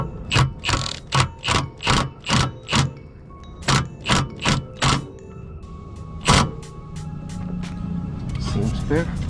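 A ratchet tightening the nut on a Maxpeedingrods coilover fitted to a BMW E46 sedan, a rapid run of loud, close clicking bursts in a steady rhythm, pausing and then picking up again briefly.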